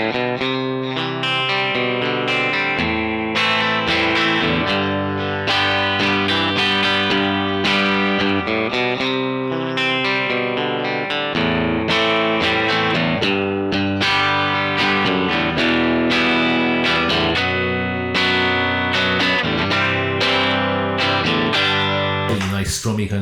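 A 1960s Telecaster on its bridge pickup plays through a '65 Deluxe Reverb amp, clean and without a pedal. Bright strummed chords ring out loud and sustained, with brief gaps between phrases and no voices over them.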